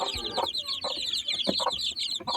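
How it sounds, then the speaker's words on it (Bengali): Native chickens cluck repeatedly and close by, with overlapping bursts and bird chatter in the background. "এটা হচ্ছে দেশি মুরগি"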